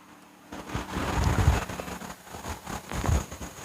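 Steady rain falls outdoors on a farm orchard during a stormy spell, a broad continuous hiss with heavier low rumbling swells near the middle and again toward the end, no voices present.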